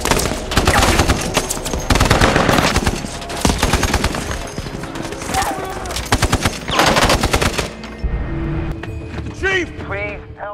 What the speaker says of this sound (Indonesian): kelompok militan lain tiba dan memicu baku tembak di antara mereka